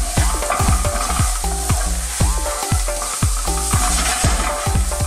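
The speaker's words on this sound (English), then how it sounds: "Now we'll get our mushrooms in. I'm using just a regular white mushroom. Give these a little mix in there." Regular white mushrooms frying in a pan and stirred, with loud close sizzling broken by a rhythmic series of utensil scrapes and knocks against the pan, about two per second.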